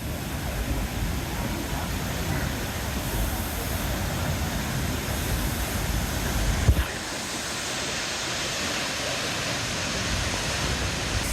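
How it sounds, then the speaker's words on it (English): Steady, roaring rush of a waterfall heard from its base in Costa Rica, a dense broadband wash filling the whole clip with a brief bump near the middle. "Just made it to the base of the waterfall."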